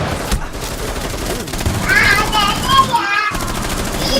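Automatic gunfire in Rainbow Six Siege, a steady rapid burst of shots running nearly throughout, loud and close, with a brief gap near the end and excited player voices mixed in.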